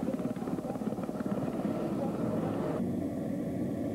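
A firefighting helicopter flies over rugged forest terrain near Huntington Lake. Its rotor chop throbs loudly and steadily throughout, with no talk.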